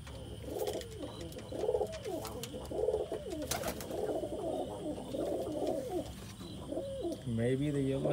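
Roller pigeons coo in a loft, a busy overlapping chorus of soft rolling coos repeating throughout, fairly close, with faint background noise and occasional talk mixed in.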